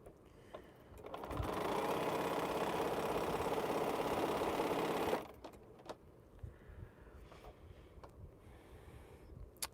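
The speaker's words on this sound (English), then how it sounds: "I got 54 of these, so this will take a while to sew." A sewing machine stitches quilt pieces in a steady whirring run of about four seconds, close and moderately loud, then stops, leaving quiet room noise with light clicks and handling sounds.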